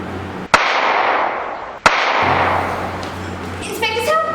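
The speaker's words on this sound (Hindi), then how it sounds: "गोलियों की आवाज थी, मगर ये आवाज आई कहां से?" Two sharp gunshots ring out a little over a second apart, each a loud crack trailing into reverberant ambience, followed by a faint murmur of voices at the end.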